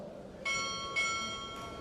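Two resonant strikes of a ship's bell sound about half a second apart during a Navy chief petty officer pinning ceremony, the tones lingering and fading over faint room noise.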